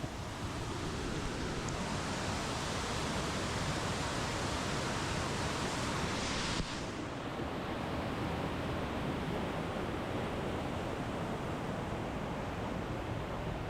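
A waterfall along a hiking trail roars as a steady, dense rush of falling water, loud and unbroken throughout with no voices.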